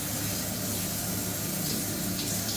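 Steady broadband hiss of a shower running with hot water, constant and close, filling the whole stretch with no voices over it.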